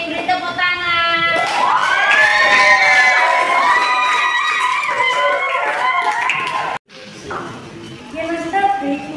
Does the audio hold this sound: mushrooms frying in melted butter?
no